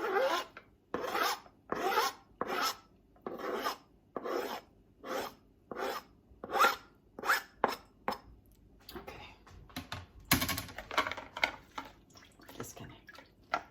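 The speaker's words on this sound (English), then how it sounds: "try to squeeze it with this spoon" Cooked spinach being pressed with a spoon to squeeze out water, a series of rhythmic wet rasping scrapes against the pan, close and fairly quiet.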